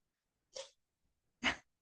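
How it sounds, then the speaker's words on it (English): A house cat sneezes twice, two short, soft, breathy bursts about a second apart in an otherwise quiet room. "That was my cat sneezing"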